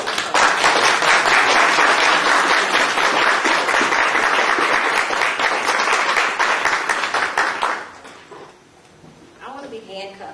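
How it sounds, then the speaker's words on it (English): Loud audience applause welcoming a speaker, a thick, sustained wall of clapping from a standing crowd that holds for several seconds, then drops away abruptly into quieter room sound with a voice starting to speak. "give her a loud applause as we welcome her"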